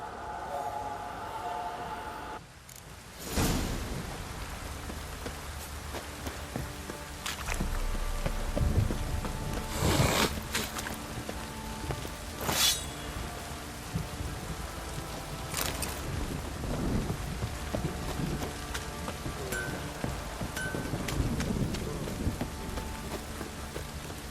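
Steady rain falls in The Witcher 3: Wild Hunt, a continuous hiss with occasional louder gusts and brief swells throughout.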